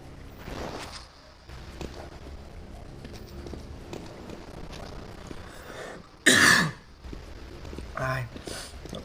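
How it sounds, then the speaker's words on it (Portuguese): A single sharp, loud cough with throat clearing bursts out once near the end, over a low, busy background of video-game sounds. "Ai, tô com a tosse."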